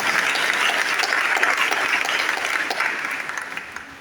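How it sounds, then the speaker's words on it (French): A church congregation at a Pentecost novena service applauds together, a loud sustained wash of clapping from many hands that slowly fades over a few seconds. "Acclamons pour le Seigneur."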